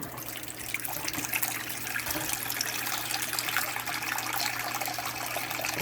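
Water runs from a bathroom sink spout in a steady, fairly quiet splashing stream that continues evenly throughout.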